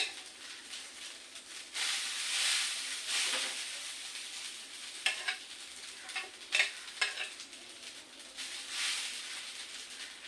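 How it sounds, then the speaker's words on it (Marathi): Last night's rice being reheated and stirred in a pan, with a steady sizzle and frying hiss broken by several sharp scraping stirs, close by and with no talk. "भात रात्रीचा गरम करून घेतली"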